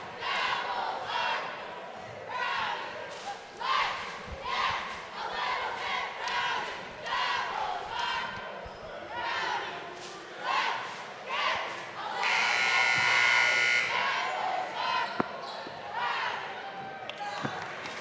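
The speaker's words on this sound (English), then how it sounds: "Treated to a nice round of applause." A high school basketball gym crowd cheers and applauds the cheerleaders, with shouts and sharp bursts over a steady roar that swells into louder sustained cheering near the end, with an announcer's voice mixed in.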